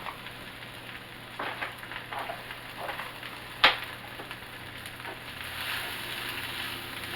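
Onions with dried basil frying in a pan make a steady, soft sizzle with faint crackles throughout and one sharp pop or clink near the middle; no talking.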